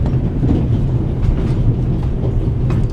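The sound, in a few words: train rattling along, from the video game The Raven Remastered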